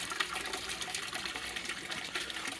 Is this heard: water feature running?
yes